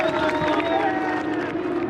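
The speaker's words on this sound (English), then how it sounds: "Please give them a big round of applause." Large fan-forum crowd at the 2020 Australian Grand Prix applauding and cheering for the AlphaTauri Formula 1 drivers, a steady, dense wash of clapping and voices held for the full two seconds.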